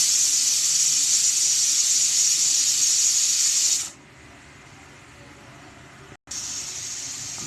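Steam hisses loudly and steadily from a pot of boiled pork leg, cuts out abruptly partway through, then resumes with the same close, sharp hiss after a brief gap.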